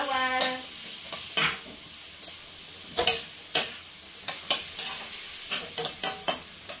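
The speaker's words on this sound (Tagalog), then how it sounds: "Ihalo na natin ang itlog." Two eggs beaten by hand in a bowl for breakfast, heard as irregular clinking taps of utensil against the bowl, close and fairly crisp, with short pauses between bursts.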